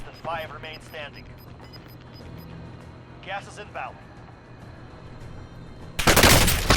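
Gunfire erupts in the Warzone video game, a loud burst of rapid shots near the end after voices talking over a low hum.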